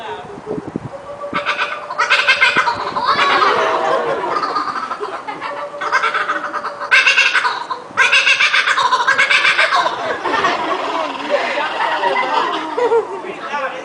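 Loud, repeated cackling bird-like calls from a laughing kookaburra at an animal park, rising and falling in rolling bursts, mixed with people imitating it and chattering nearby.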